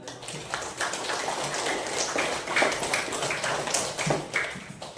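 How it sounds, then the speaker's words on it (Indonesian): Primary school class clapping hands together, a continuous patter of many light claps at moderate loudness with no talk. "Tepuk tangan."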